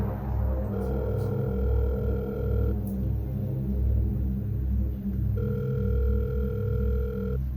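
Phone call ringback tone heard from the caller's handset, two long, steady electronic tones separated by a pause, fairly clear against low background hum.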